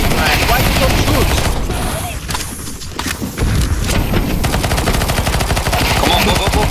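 Dense, continuous gunfire in CS2 Zombie Escape on a boat escape map, rapid overlapping shots from many weapons at once, loud and near, thinning briefly midway before resuming at full intensity.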